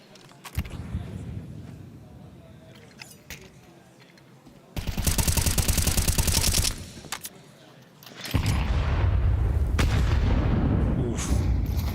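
Bursts of gunfire in a Counter-Strike match, shots punching through a wall, loud rapid volleys in two main stretches over game noise, with faint commentary underneath.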